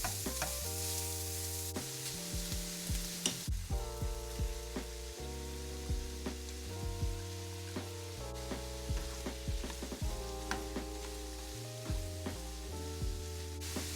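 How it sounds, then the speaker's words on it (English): Onion, garlic and mushroom fry with hot Italian sausage in a pan, giving a steady sizzle with repeated stirring scrapes. Tonal background music plays underneath throughout. "you can start adding in your other veggies, starting with onion, cooking that for a couple minutes, and then adding in your garlic and mushroom."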